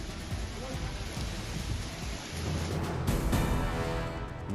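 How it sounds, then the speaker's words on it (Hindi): Steady, dense rain falls continuously across parts of Hyderabad as a loud hiss, with a broadband wash that swells slightly midway. "हैदराबाद के कई इलाकों में भी लगातार बारिश जारी।"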